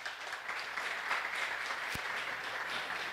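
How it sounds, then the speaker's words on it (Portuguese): An audience at a technical workshop in Bahia applauds two speakers being introduced, with steady, moderately loud clapping and one sharp thump near the middle. "Vamos aplaudir os dois."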